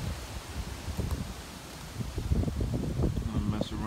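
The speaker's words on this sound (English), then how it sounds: "Still gusty winds." Gusty hurricane winds outdoors during Hurricane Irma in 2017, a steady rushing roar with broad low buffeting and microphone wind rumble that swells louder in the second half, with no one speaking.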